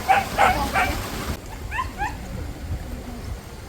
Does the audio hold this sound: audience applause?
no